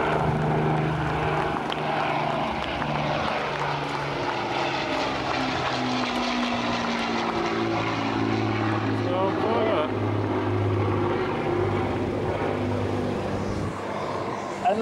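The four piston engines of an Avro Lancaster bomber drone loudly at an English airshow at Little Gransden, a steady throbbing roar with shifting pitch as the aircraft passes, while a commentator speaks over the public address.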